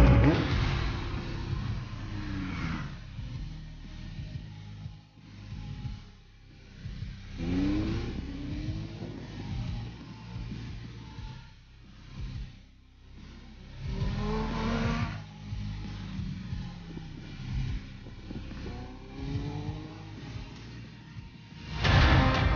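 A 2018 Kawasaki Z1000 R motorcycle engine swells and fades in repeated revs, heard at a moderate distance with steady road-like rumble between the rises.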